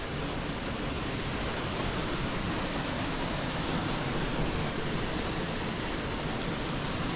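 Johnston Canyon's lower falls pour among snow in a steady, dense broadband roar, constant and close with no voices.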